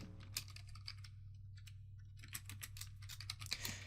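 Computer keyboard typing while entering a colour setting in a Roblox Studio scripting tutorial, with quick, light key clicks arriving in bursts over a steady low hum.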